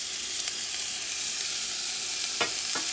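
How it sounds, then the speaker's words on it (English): Chopped onion, about a quarter of a small onion, frying in a pan on high heat to caramelize, giving a steady close sizzle with a few soft stirring scrapes near the end. "I'm going to put some of the onion. This is about a quarter of a small onion."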